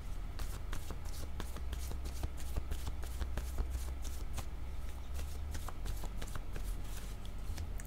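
Tarot cards are shuffled by hand in a steady run of crisp, close riffling flicks over a low background hum, with no talking.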